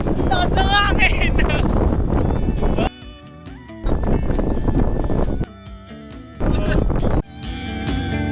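Strong wind buffets the microphone on the summit of Mt. Pico De Loro, loud gusty roaring in bursts broken by quieter lulls, with voices talking at times.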